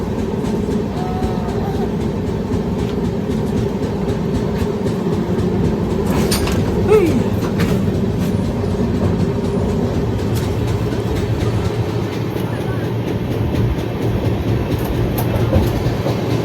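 Steady rumble and rattle inside a moving train carriage on a long journey from Mumbai to New Jalpaiguri, with rhythmic clatter from the wheels running continuously throughout.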